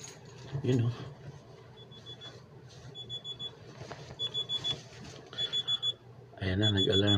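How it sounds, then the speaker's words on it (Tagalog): An alarm clock sounds at about five in the morning, giving repeated short electronic beeps in bursts that grow more frequent. A loud burst comes at the end, and a person talks nearby at the start. "Ayan na, nag-alarm."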